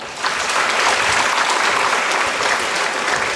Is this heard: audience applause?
yes